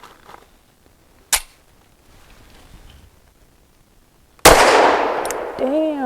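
Two pistol shots from a PSA Dagger Micro firing Norma ammunition at an outdoor range, one sharp crack and then a second louder blast with a long ringing tail, with faint voices between.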